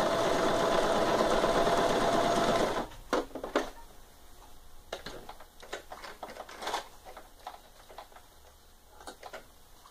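A sewing machine stitches the hem of fabric slippers, a loud continuous run of the motor at first, then quieter intermittent ticks and short stitching bursts with pauses between.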